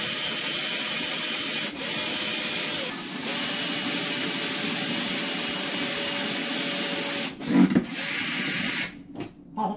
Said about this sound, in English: So I decided to use an electrical drill, Hitachi, which is high speed